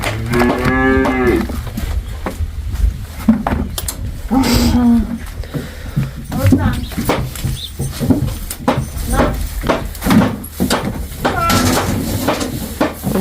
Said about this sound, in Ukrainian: Двоє телят і корова.